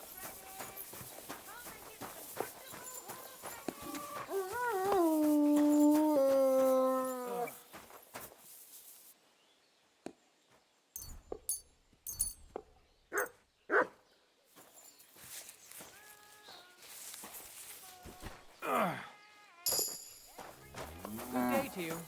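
A dog in Kingdom Come: Deliverance 2 gives short barks and yelps amid hoofbeats, a sustained whine, game sounds and talking voices, the barks coming in scattered bursts.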